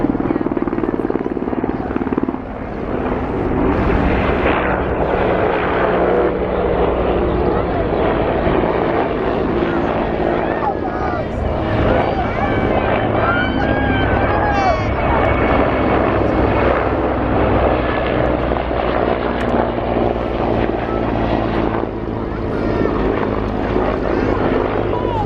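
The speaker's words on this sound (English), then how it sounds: "The other machine in this formation, the HIP, is part of the most successful helicopter family" Russian Hind and Hip military helicopters fly in formation at the RIAT air show, a loud, continuous rotor and engine roar that holds steady throughout with a commentator talking over it.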